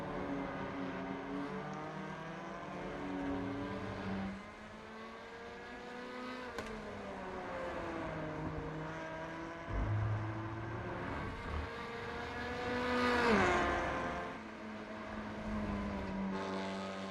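Race car engines roar around Brands Hatch GP in the iRacing simulator during a TCR Championship qualifying session, with rising and falling engine notes as cars accelerate and shift, loud and continuous with overlapping passes.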